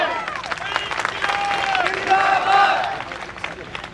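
At a Jantantra Yatra gathering in Sohana, Mewat, the crowd breaks into loud applause to honour guests. Dense clapping carries on for about four seconds, mixed with crowd voices and some shrill, whistle-like tones.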